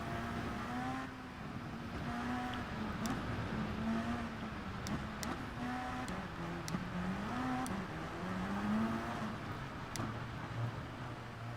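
Race car engines hum at moderate distance in Gran Turismo Sport, with a Peugeot among the pack, pitches rising and falling through gear changes, with a few sharp clicks over the continuous drone.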